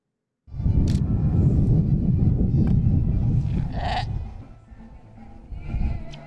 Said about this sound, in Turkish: Bursa'daki çiftlikte doğum yapan Barış isimli koyunun yavrusuna Sergen ismi verildi